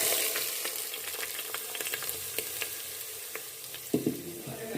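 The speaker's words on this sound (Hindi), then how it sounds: "इसको हम पालक में डाल देंगे।" Hot oil tarka with green chillies poured into spinach for aloo palak qeema, a steady close sizzle and frying crackle with scattered pops and a brief louder burst near the end, no voices.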